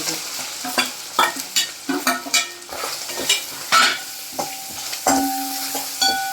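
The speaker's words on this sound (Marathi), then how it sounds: "कांदा पण असं छान परतून घ्यायचा आहे गॅस थोडा मोठा करायचा" Chopped onion and curry leaves sauté in a pan for a sprouted moth bean curry, with loud, irregular spatula scrapes and clanks over a continuous close sizzle.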